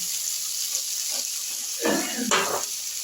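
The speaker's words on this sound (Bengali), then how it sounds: "দিয়ে আমি আরেকবার মশলাটাকে কষে নিচ্ছি।" Masala with tomato, green chillies and peas sautés in a pan with a soft steady sizzle, while a couple of louder scraping stirs come through near the end.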